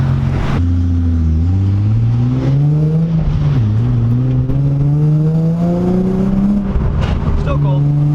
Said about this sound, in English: get some good sound clips of the 350Z with the ISR exhaust